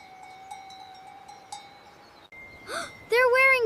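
Cowbells worn by cows in a Swiss village clank and tinkle at a steady pace, then a cow lets out a loud, close moo at the end.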